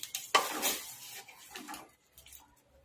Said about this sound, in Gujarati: હવે એની અંદર આપણે થોડું મીઠું એડ કરીશું અને થોડી હળદર. હવે મિક્સ કરી દઈશું આપણે.